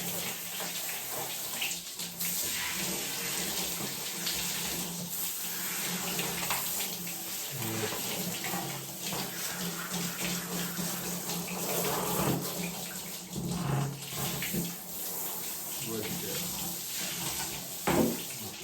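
Water from a tap runs steadily as soap is rinsed off a dog in a bath, a close, continuous gush that goes on throughout with small shifts in splashing.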